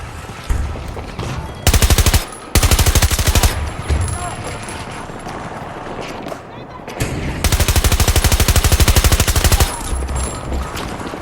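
Light machine gun fire in Battlefield 2042, the Avancys LMG, loud sustained automatic bursts in two long volleys with quieter gunfire and game noise between them.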